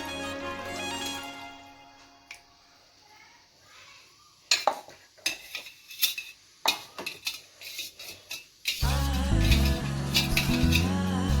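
A spoon stirring almond gum juice with chia seeds in a glass: after a quiet stretch, a run of clinking, scraping strokes against the vessel, ending in a louder busy patch of clatter and voice.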